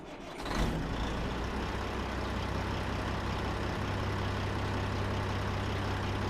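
Truck with a yellow engine idling, a steady low diesel rumble that starts up loudly and then holds constant and close throughout with no voices.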